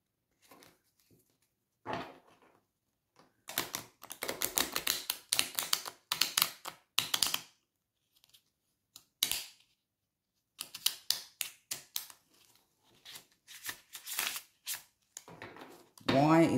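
Tarot cards are riffled and shuffled close by in quick bursts of crisp flapping, with short pauses between rounds; no talking.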